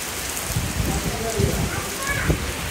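Heavy, steady rain falls continuously during an island trip in the Andamans, a dense close hiss with scattered drops striking a surface, no voices.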